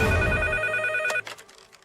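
A telephone rings with a bright, steady electronic tone for about a second, then cuts off into a brief clatter and quieter room noise.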